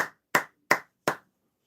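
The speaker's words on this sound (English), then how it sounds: "You guys are going to have to give yourself a round of applause" Four slow, evenly spaced handclaps ring out alone, crisp and close, from a single pair of hands during a live online stream rather than a full round of applause.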